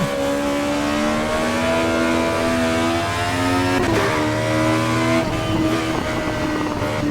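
A race car engine in Assetto Corsa Evo screams at high revs, bouncing repeatedly off the rev limiter with sharp stuttering cuts near 4 and 5 seconds, loud and steady with no talk.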